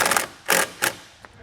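A taillight on a 2021 Hyundai is pressed back into its housing, giving three quick plastic clicks and snaps close by, then a faint final tick.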